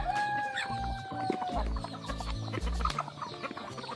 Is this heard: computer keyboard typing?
no